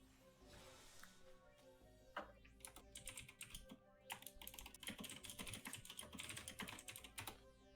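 A computer keyboard clacks in quick, uneven bursts of sharp keystrokes, near and alone, with short pauses between flurries of typing.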